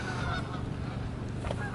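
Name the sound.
Canada geese honking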